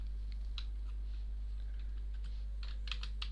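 Soft, scattered key clicks from a computer keyboard, used to move around while gaming, with a few brighter clustered taps near the end. The clicks sit over a steady low hum and no one talks.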